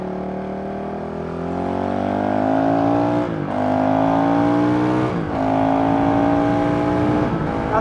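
A Honda CRF 450 RL motorcycle accelerates hard on a highway, its engine note climbing steadily through the gears with brief dips at each shift, loud and close throughout.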